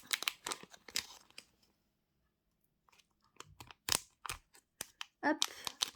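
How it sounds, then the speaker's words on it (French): Tearing open a stiff plastic booster pack of Japanese Harry Potter trading cards, heard as close crinkling, crunching rips in short bursts, broken by a quiet pause. "Donc, on va ouvrir un booster."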